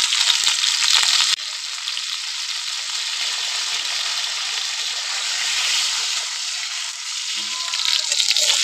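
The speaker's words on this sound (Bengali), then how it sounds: "আমি পটলগুলোতে একটু উল্টো পাল্টো করে লাল লাল করে ভেজে নেবো।" Pointed gourd (potol) pieces sizzle steadily as they fry in a pan with a little turmeric, a continuous close hiss with a louder burst at the start and faint stirring scrapes.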